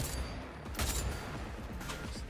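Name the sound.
rifle gunshot in the video game Cyberpunk 2077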